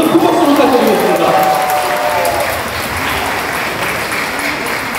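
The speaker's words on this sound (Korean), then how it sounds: "여러분 큰 박수 부탁드리겠습니다." Wedding guests applaud loudly at a reception as a singer is welcomed to the stage, a dense, sustained burst of clapping that fills the room, with a voice speaking briefly early on.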